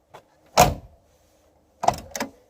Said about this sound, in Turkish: Türk sinemasından aşina olduğumuz kapı örtülme sesi.